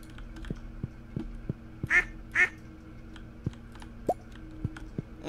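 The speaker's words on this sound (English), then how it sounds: "So, Upset Couch is our newest duck." Two short duck quacks in the farming game Stardew Valley, sounding close together at moderate volume over a quiet backdrop of soft game clicks and taps, with no talk.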